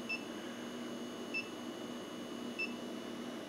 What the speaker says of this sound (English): This is an induction forge, and it is the latest bit of magic here at Black Bear Forge